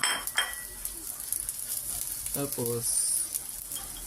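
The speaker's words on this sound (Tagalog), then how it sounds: "bigisan mo natin yung sa bawang at sibuyas" Garlic and onion sautéing in a pan while cooking sinabawang lapu-lapu, with a steady soft sizzle, clinks of a utensil against the pan and stirring, and a short voice near the end.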